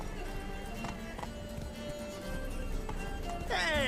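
A horse gallops in the video game The Witcher 3, quick rhythmic hoofbeats with a whinny near the end, heard alongside game music and effects.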